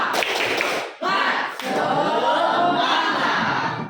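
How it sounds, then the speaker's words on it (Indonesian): Schoolchildren in a classroom perform a group spirit clap, bursts of quick unison clapping broken by short pauses, loud and close, with young voices calling out along with the rhythm. "Oke, tepuk semangat dulu coba semuanya."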